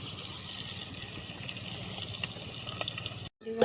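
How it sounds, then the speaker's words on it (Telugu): Tamarind pulp liquid pours into a simmering Andhra-style fish curry made with raw tamarind, a steady soft gush of liquid heard close up, running evenly for a few seconds before stopping abruptly, with a brief clatter right at the end. "ఇప్పుడు వీటిని పులుసు చేసుకుని వేసేసుకోవడం."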